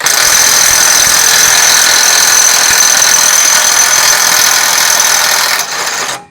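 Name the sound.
Tanzu TZ-IW 1000 cordless impact wrench running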